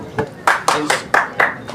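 Hands clap in a crisp, evenly spaced run of about half a dozen claps, close and fairly loud, at a Shiv Jayanti celebration.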